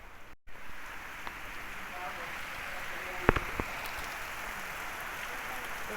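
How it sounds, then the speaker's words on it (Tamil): Steady rain falls in Odisha, India, a constant broadband hiss of drops on surfaces with a few sharper taps and splashes near the middle, holding evenly through the moment. "பாருங்கள் ஒடிசாவில் எந்த அளவுக்கு மழை பெய்யுதுன்னு"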